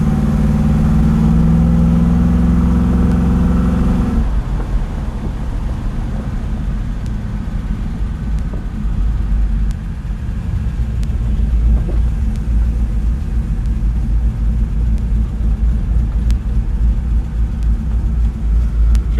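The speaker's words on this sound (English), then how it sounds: "We'll do a couple revs on it so you guys can hear that. Just a really good exhaust note." A 1969 Chevrolet Chevelle SS tribute V8 revs up once with a rising roar, then settles into a deep, loud rumbling idle with small throttle blips, heard up close with no talking.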